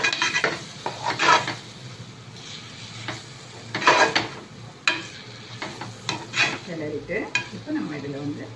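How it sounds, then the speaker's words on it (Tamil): Spinach for palak keerai is stirred in a cooking pan, with repeated scraping clinks of a utensil against metal over a soft background sizzle, close and uneven in rhythm. "நல்லா கிளறி விடணும்."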